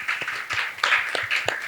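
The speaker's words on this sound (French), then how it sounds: "Est-ce que nous pouvons applaudir pour nos invités" An audience applauds guests on a Beninese television magazine segment, steady broadband hand-clapping over about two seconds, moderately loud and close.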